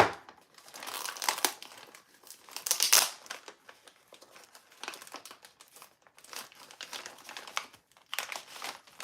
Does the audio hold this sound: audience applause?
no